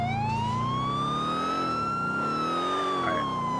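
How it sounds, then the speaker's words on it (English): Police car siren in Grand Theft Auto 4, a continuous wailing tone that rises and falls smoothly, loud and close over a steady engine and road rumble, with no talking. "Police car."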